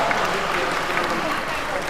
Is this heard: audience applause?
yes